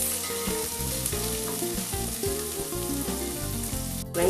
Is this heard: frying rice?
yes